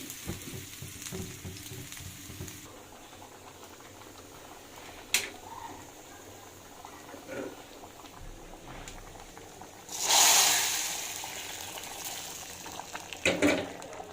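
Khichuri tempering of oil and ghee with dried chillies, five-spice and chopped ginger bubbles quietly in a pan, then bursts into a loud sizzling hiss that slowly fades, with a few sharp clinks.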